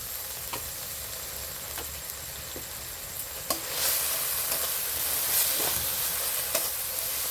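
Oil sizzles steadily in a pan while cooking a prawn curry, a continuous close crackle with a few sharper spits and stirring scrapes along the way, and no voices.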